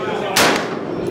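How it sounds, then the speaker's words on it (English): A single sharp crack of a SIG Sauer M400 VTAC rifle fired at a steel plate on an outdoor range at a trade show, loud and close, with a brief ringing tail. "Shoot at one of those plates down there."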